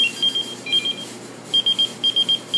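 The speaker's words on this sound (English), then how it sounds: "Some of you who remember pagers. Remember those tones?" Pager alert tones: short high electronic beeps in quick groups of three, repeating after pauses over a faint hiss, fairly clear and close.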